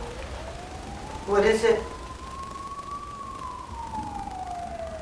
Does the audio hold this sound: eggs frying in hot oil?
no